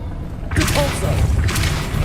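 Depulso spell cast in Hogwarts Legacy: after a brief lull, a loud low boom erupts and a second forceful whoosh-thump follows a second later, heavy and close.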